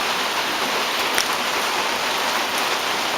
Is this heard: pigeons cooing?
no